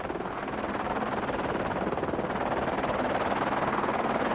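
Helicopter filming a 1995 mountain rally stage as leaders climb toward the top of Joubert's Pass, a steady loud rotor and turbine drone with a fast chopping pulse, continuous throughout with no voices.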